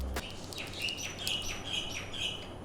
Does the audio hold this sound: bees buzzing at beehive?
no